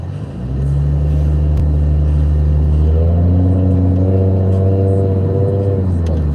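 A car's engine idles loudly nearby and then rises in pitch as it revs while backing out, a steady rumble that climbs and holds.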